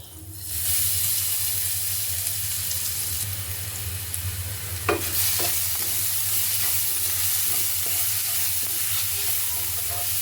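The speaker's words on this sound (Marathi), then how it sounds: "तेल गरम झालेलं आहे आपण त्यामध्ये जो आपण खरडा केला होता तो टाकणार आहोत" Kharda, a coarse chili-garlic paste, drops into hot groundnut oil and sizzles loudly and steadily throughout, with a low hum underneath and a few scraping stirs, including a sharper clack near the middle.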